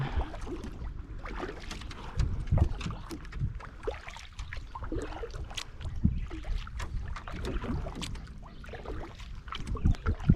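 Canoe paddled through rain, irregular splashes and dips of paddle strokes with dripping water and light wind buffeting, close and moderately loud with no talking.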